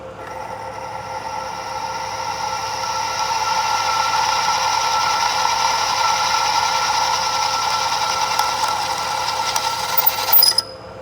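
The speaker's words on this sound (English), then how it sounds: "I'll go ahead and drill these out and then I'll be back." A power drill bores steadily through the baffles inside a Toyota 2JZ-GTE valve cover, giving a continuous, loud whine that holds for about ten seconds before cutting off with a brief clatter.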